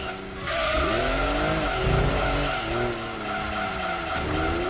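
In Gran Turismo 2, a Lexus SC 300 slides through a drift, its tires shrieking in wavering, sustained squeals over a loud engine drone. The sound is continuous and close, with no voices.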